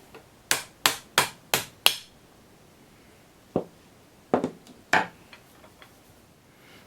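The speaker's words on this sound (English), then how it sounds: "just hammer away" A hammer strikes an M14/M1A rifle receiver set barrel-up on a wood block, five sharp even knocks in quick succession, then a pause followed by a few scattered lighter taps and clicks, close and otherwise quiet.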